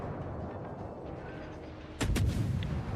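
Naval guns fire at a cruiser in World of Warships: a sudden loud booming salvo lands over a background of steady battle noise, with a second sharp blast right after.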